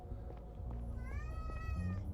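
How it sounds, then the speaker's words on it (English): Cat in the game Lacuna, a drawn-out moody meow rising into a wailing yowl, fairly close, over a low background hum. "I think we have a moody cat."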